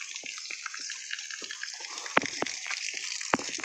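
Water from a running farm motor pump gushing and splashing steadily, with irregular sharp slaps and clicks over a broad, constant wash of flow.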